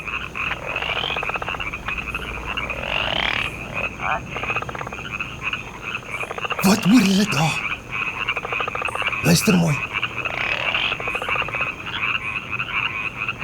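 Frogs croak in a steady chorus throughout, with pulsing repeated calls and a couple of louder, closer bursts partway through, while an adult voice speaks briefly over them.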